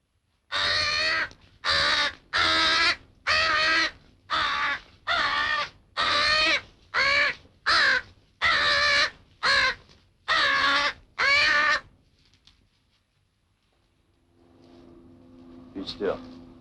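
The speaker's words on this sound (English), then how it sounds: "It's not every day you catch a crow." A captured crow with one broken wing bone gives about a dozen loud, harsh caws in steady succession, close up. Near-silence follows, broken only by faint background noise.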